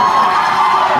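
Audience at the Bintang RTM 2024 singing competition show cheering loudly, a sustained roar of crowd voices and whoops filling the short moment.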